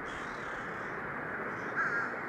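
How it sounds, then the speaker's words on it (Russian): Crows cawing around a cemetery in New Orleans, a single harsh call rising briefly above a steady broadband wash of outdoor noise, faint and somewhat distant. "Они реально летают вокруг меня и все время каркают."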